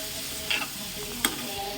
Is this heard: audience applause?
no